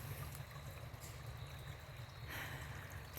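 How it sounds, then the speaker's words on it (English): Creek water bubbling and trickling steadily over rocks beside an orchard trail, a constant close wash of running water with a low rumble underneath, no voices. "just listen to the water bubbling down it"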